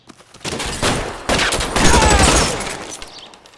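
Rapid bursts of gunfire in a police shootout from L.A. Noire, several volleys of overlapping shots, loud and close, with a brief lull before the heaviest firing and a fading tail.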